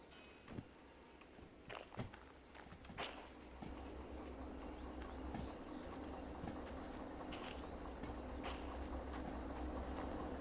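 A DM3 locomotive in the Derail Valley game brakes a heavy train: a steady low rumble of rolling cars builds and holds, with scattered clanks and squeaky wheel noise on top.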